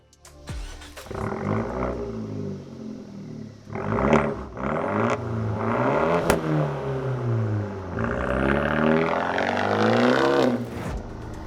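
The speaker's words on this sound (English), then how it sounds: "The exhaust is a necessary modification for the 124 because it makes it sound the way they originally intended, at least when they designed the Abarth 500." A modified exhaust on an Abarth 124 Spider revs close by in several rising and falling blips, with a throaty rasp and crackles between pulls before a longer climb near the end.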